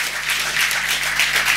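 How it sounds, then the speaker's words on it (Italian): Dense, steady applause from an audience at a traditional Valtrompia music concert, a continuous wash of many hands that holds at an even level from start to finish with no voices over it. "a cui va un grande applauso"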